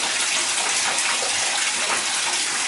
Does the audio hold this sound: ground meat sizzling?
no